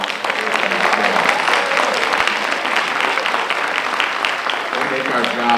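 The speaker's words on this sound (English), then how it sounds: "Let's give them another round of applause." An audience at a university School of Education hooding ceremony applauds the graduates, sustained and even clapping from many hands filling the room throughout.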